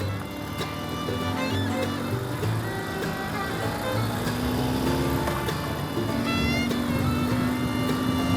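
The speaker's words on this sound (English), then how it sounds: "got a car up my bum." A car follows close behind a Ural sidecar motorcycle touring a country road near the old gold town of Steiglitz in Victoria, Australia, a loud continuous engine drone with shifting pitch, close and steady, with wind noise and no talking.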